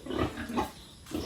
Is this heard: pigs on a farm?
yes